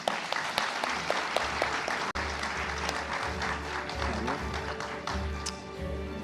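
Sustained applause from a conference audience after a panel at the India AI Impact Summit: dense, steady clapping fills the room at a loud level, with a low hum underneath and no voices over it.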